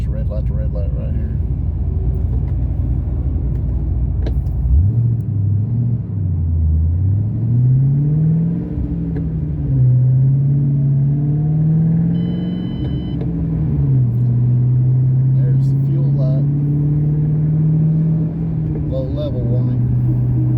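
A Paxton-supercharged 3V Ford Mustang making 550 rear-wheel horsepower idles in stop-and-go town traffic, then its engine rises and falls through low rumbling pulls and a steady cruise drone inside the cabin.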